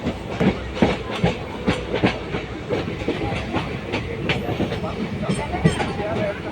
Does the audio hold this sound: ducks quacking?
no